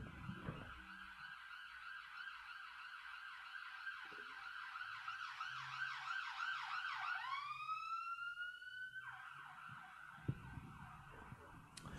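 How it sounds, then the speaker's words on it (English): An ambulance siren wails in a fast repeating yelp, steady for several seconds before sweeping upward into a higher, longer tone and cutting off, fairly faint and distant with little else around it. "Oh, wait. Ambulance. Wait for it."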